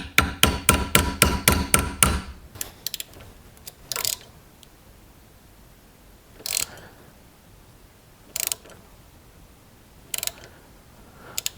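Hand tap turned in stages into a broken bolt stuck in a bushing, giving a rapid run of sharp metallic clicks and ratcheting creaks at first, then a few isolated loud clanks spaced seconds apart in a quiet workshop.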